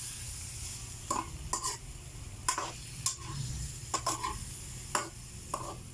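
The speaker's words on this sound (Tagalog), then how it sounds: "Ayan, haluin natin." Squid adobo sizzles in a pan under a steady close hiss while a utensil scrapes and stirs it in repeated bursts, roughly one every second, with no talking.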